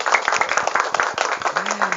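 Audience at a parenting seminar in Bekasi clapping in quick, dense bursts, with voices faintly heard under the applause.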